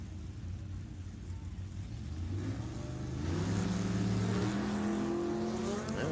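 A 409 Chevrolet Nova drag car at a nostalgia drag racing event, its engine note rising steadily and growing louder as it accelerates hard down the strip, with a broad roar under strong rising harmonics.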